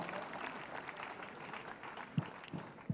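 Guests at a civil wedding ceremony applaud together, a steady patter of clapping throughout with a few louder nearby claps near the end and no speech.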